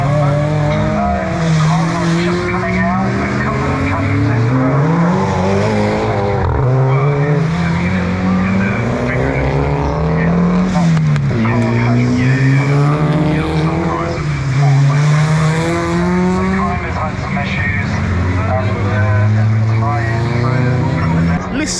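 Time attack race cars in the Clubman, Pocket Rocket and Classic and Retro classes lapping Cadwell Park, engines loudly revving up and down through gear changes with tire squeal, a commentator talking over the continuous roar.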